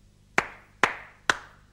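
Three crisp hand claps at an even, unhurried pace, each sharp snap trailing off in a short room echo, with quiet in between and no other sound.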